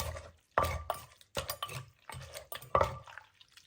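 Bamboo shoot soup being stirred in a pot, with a few distinct scraping and clinking strokes of a utensil against the pot at an uneven rhythm, close and fairly quiet, with no talking.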